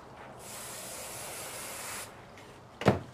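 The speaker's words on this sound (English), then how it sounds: "use your spray glue." Spray glue hissing from an aerosol can in one steady burst of about one and a half seconds, close and clear, followed by a short sharp bump.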